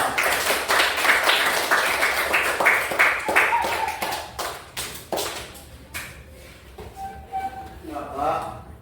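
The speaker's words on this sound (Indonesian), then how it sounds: "Ayo semua sekali lagi tepuk tangan yang meriah untuk kita semua." A class of students claps loosely and unevenly for themselves at the end of a lesson on halal and haram. Dense, scattered claps thin out toward the end, with voices heard among them.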